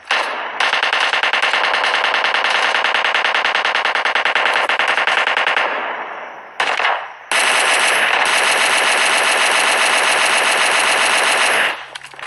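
Long sustained bursts of automatic gunfire in PUBG Mobile Lite, loud and close, with a brief pause before a second extended spray, no talking over it.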